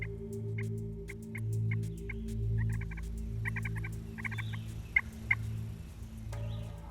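Wild turkey toms gobble in repeated bursts during spring hunting season, loud and fairly close, answering calls over a steady low hum and scattered background chirps.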